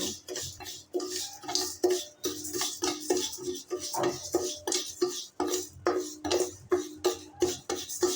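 Mashkalai dal being lightly dry-fried in a kadai: rhythmic metallic scraping and clinking of a spatula against the pan, about one stroke a second, close and unbroken by speech.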